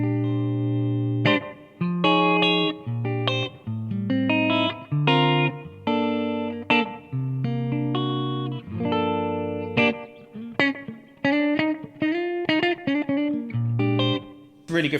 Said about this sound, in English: this great chimey, clean sound